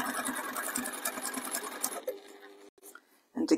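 A sewing machine stitches down a pie crust cushion seam in a steady run for about two seconds, then slows and stops, with soft handling noises and a short final burst.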